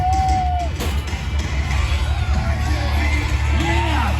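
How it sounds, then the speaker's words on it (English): A rodeo crowd of fans young and old cheers, whoops and shouts across an evening arena, a dense continuous roar with individual yells rising above it. "rodeo fans young and old had plenty to cheer for"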